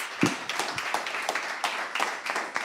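A small audience at a livestreamed pitch event claps, individual hand claps distinct and uneven, fairly close and modest in volume for a few seconds.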